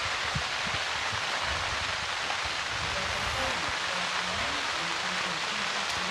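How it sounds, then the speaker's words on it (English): Heavy rain pouring down outdoors at an archery shootdown in Metropolis, Illinois, a dense, even hiss of falling water filling the whole clip, with faint low sounds beneath. "Here comes the rain. It's going to be a downpour."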